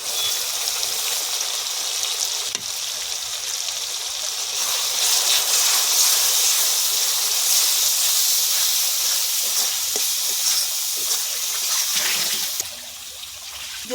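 Small new potatoes and spices frying in a pan for Bengali aloor dom, a loud continuous hissing sizzle that swells in the middle and drops off near the end, with faint stirring clicks and no talking.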